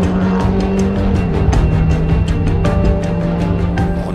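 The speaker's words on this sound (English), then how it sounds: "Glenn Brinkman, in his fierce Escort Cosworth RS, was pushing hard to close the gap." A Ford Escort Cosworth RS rally car pushing hard on a special stage of a rally series, its engine roaring loudly and steadily close by with rapid pitch shifts and rev changes, no voices.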